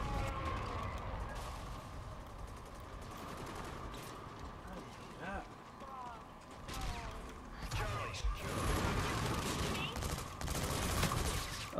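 Bursts of automatic gunfire in a capture-the-flag multiplayer shooter game run steadily through the clip with a faint siren-like tone underneath, while a player talks over the action.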